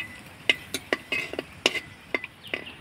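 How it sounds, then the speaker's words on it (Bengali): Whole cumin, three dried chillies and two bay leaves are stir-fried in hot oil as a tempering for a vegetarian mock fish curry. Quick, sharp scrapes and taps of a spatula on the pan come in an uneven rhythm over a soft sizzle. "একটু ফোড়নটা নাড়াচাড়া করে ভেজে নেব"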